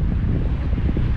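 Strong wind buffets the microphone at an outdoor shore fishing spot by murky water, giving a steady, close roar of low rumble and gusts with no talking.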